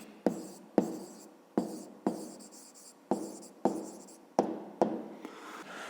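A pen writes an answer by hand on paper in a series of about eight crisp, evenly spaced scratching strokes, each with a sharp onset and a short fade, close and fairly quiet with no talk.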